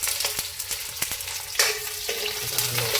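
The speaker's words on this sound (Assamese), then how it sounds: "এতিয়া দি দিলোঁ চব পিঁয়াজ আৰু ৰচুন দি দিলোঁ পিঁয়াজ আৰু ৰচুন" Onion and garlic frying in hot oil, a dense continuous sizzle with a sudden surge as more goes in and a few sharp stirring knocks, loud and close with no talking.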